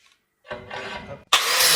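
Rough rasping abrasion as the end of a steel tube is cleaned before welding for a sailboat cradle, a short scrubbing burst followed by a louder, steady high-pitched grinding run, close and loud with no talking.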